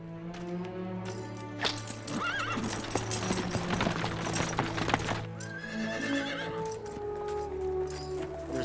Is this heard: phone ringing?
no